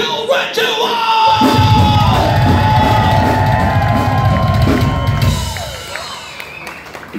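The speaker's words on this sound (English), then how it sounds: "So we wanna give a big scream for Kill Ritual!" A concert crowd at an Iced Earth heavy metal show in Baltimore screams, yells and cheers loudly and continuously, then the roar slowly fades near the end.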